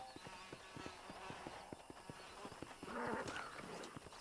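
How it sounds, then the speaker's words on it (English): Horse hooves clip-clop at a steady trot in the Western video game Red Dead Redemption, crisp evenly spaced beats up close, with a brief whinny partway through. "Where my horse at?"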